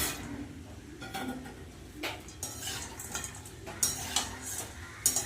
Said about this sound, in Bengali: ভালো করে একসাথে নাড়িয়ে নেব